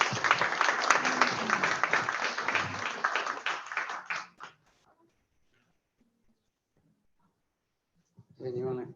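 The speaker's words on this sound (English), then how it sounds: "Just give them a round of applause," Audience applause for working group members at a community event, a burst of many hands clapping that fades out after about four seconds, followed by silence and then a voice beginning to speak.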